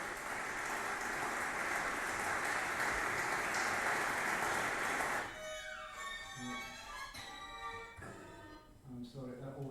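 Lecture audience applauding, a dense steady wash of clapping that fills the room for about five seconds, then cuts off abruptly and gives way to someone speaking.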